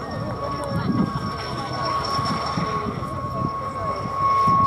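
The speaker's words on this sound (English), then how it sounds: "So as the two-seater goes past, have a look at that length of nose." A two-seater aircraft with a long nose flies past at the 2016 Dunsfold Wings and Wheels air show, a steady droning engine roar that stays loud and swells toward the end, with crowd and commentary noise underneath.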